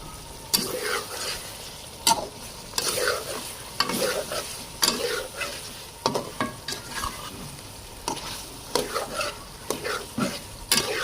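Chicken karahi with cumin, dried coriander and black pepper roasting in a pan, sizzling while a spoon stirs and scrapes it in quick irregular bursts of clatter against the metal.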